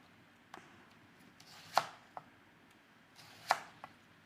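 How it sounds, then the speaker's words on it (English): Knife slicing through cucumber on a cutting board for fried rice, a few sparse crisp chops with pauses between, close and fairly quiet, no talking. "Just gonna slice the cucumber."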